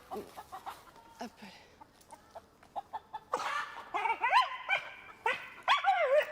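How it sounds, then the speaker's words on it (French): A dog barks and moves about while a frightened hen clucks and squawks in rising, agitated bursts, with people talking quietly in the background. "Tiens le chien, chope la poule."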